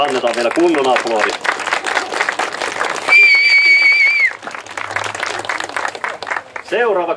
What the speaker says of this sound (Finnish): Ja annetaan vielä kunnon aplodi.